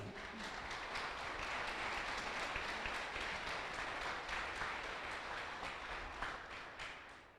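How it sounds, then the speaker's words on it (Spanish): A church congregation applauds during a Spanish-language sermon, a dense, steady wash of clapping that holds for several seconds at a fairly low level before tapering off at the end. "¿Puede darle un aplauso al Señor?"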